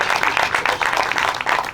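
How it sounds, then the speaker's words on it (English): An audience at a water tanks project groundbreaking claps steadily, a lively burst of applause with no voices over it. "Let's give him a round of applause"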